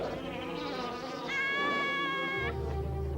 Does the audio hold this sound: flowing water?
no